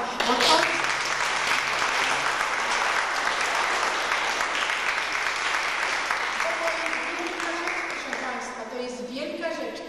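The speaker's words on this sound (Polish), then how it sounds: "bardzo proszę o brawa" A hall audience at an anniversary celebration of a regional folk ensemble claps steadily for about ten seconds, full and sustained, with a faint voice showing near the end.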